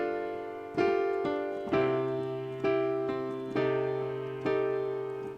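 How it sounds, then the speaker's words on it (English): Piano chords struck about once a second with the sustain pedal held down, each ringing into the next so the notes pile up into a blurred, smeared wash. "It's all muddy. It's just kind of all, it's just a really muddy sound."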